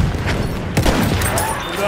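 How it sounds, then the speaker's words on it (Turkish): Dense bursts of gunfire from a Battlefield 1 match: rapid machine-gun fire blends with heavy, booming shots in a loud, continuous battle din, with one sharper blast near the middle. "Dikkat eyleyin makinalı tüfek."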